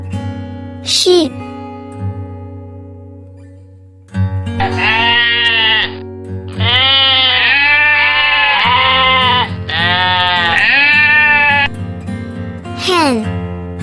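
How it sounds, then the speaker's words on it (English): Sheep bleating loudly and repeatedly in a long series of wavering calls, close up, with no talk, as part of a children's animal-sounds sequence. "sheep,"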